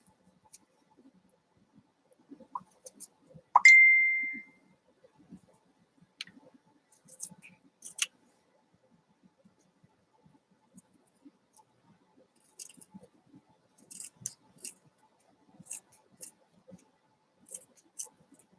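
Scissors snip fabric close to a satin-stitched patch, scattered faint clicks and crunches over a long quiet stretch, with one brief high tonal squeak early on.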